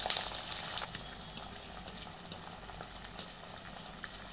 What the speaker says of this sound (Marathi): मटार टाकते.